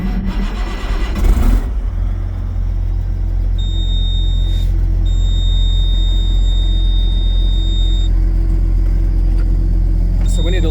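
A Case STX375 tractor's engine runs steadily with a loud, close low rumble after a short clatter at the start, and a thin high whine sounds through the middle.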